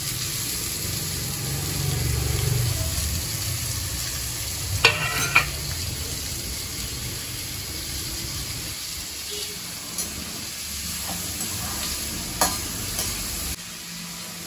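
Onions and green chillies fry in a pan, giving a strong continuous sizzle with a heavier low rumble at first and a few sharp clinks of a spoon midway.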